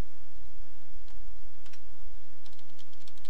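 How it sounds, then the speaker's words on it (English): Someone typing a username on a computer keyboard, soft quick clicks in an irregular rhythm over a low background hum, with no voice. "we will type in a username, a password, and a confirm password"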